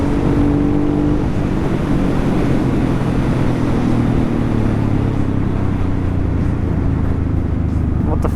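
Honda Transalp supermoto motorcycle engine while riding, a loud steady drone with low rumble and wind noise, holding a fairly constant pitch throughout.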